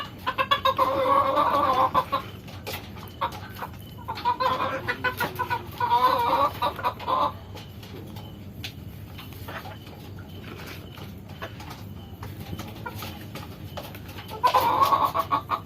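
A brooding hen clucks close by in three loud bursts, with quieter stretches of soft rustling between them.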